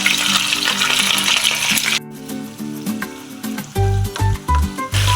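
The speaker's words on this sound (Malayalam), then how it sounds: "നമുക്കൊരു പാൻ അടുപ്പത്ത് വെച്ച് അതിലോട്ട് കുറച്ച് എണ്ണ ഒഴിച്ച് ഗരം മസാല കൂട്ടിടാം" Garam masala spices, dried chillies, curry leaves and coconut pieces fry in hot oil in a pan for a tripe fry. A dense sizzle fills the opening seconds before music takes over, with the sizzle continuing underneath.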